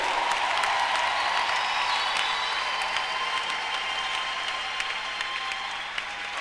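Church congregation applauding and cheering in acclaim of Jesus, a steady dense wash of clapping that holds loud and even across the whole stretch, fading only slightly toward the end.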